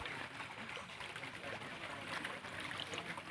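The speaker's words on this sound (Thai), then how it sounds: "ช่วงน้ำไหลแรงนะ" Water rushing strongly at the Mae Kasa hot spring, a natural site in Thailand; a steady, fairly quiet hiss of flowing water, continuous and even, with no talking.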